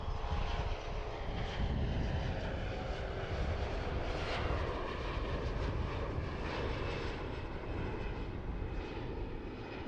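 A plane takes off from a busy cargo airport's runway, a steady, loud engine roar holding from start to finish with no speech over it.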